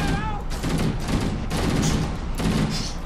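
Rapid bursts of automatic gunfire in a Halo game firefight come in several clustered volleys, loud and close, with people talking underneath the shooting.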